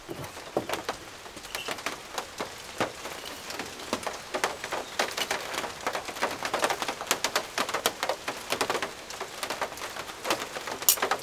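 Rain falling outdoors at a building site where a floor is being poured, a faint steady patter with irregular sharper drops ticking on a surface, with no voices.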